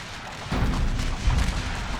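An artillery shell strikes during a Total War: Shogun 2 American Civil War battle, a deep booming impact rumbling in the distance with a second heavier thud shortly after.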